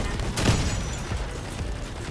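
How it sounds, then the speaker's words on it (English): Rapid machine-gun fire in a vehicle combat video game, a steady rattling burst that runs continuously at moderate loudness for the whole stretch, with a heavier boom near the start. "This guy is using some kind of machine gun"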